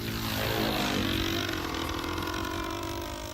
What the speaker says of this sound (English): Unlike the real thing, there's no feel or sensation with a model airplane.